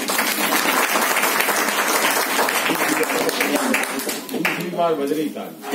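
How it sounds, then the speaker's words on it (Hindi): An audience at a talk applauds loudly and continuously, and a voice speaks over the clapping. The clapping thins toward the end. "तालियां बजा देना उनके लिए"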